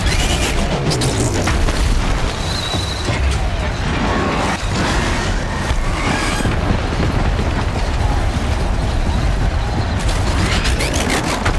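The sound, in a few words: pillar collapsing, from the video game Horizon Zero Dawn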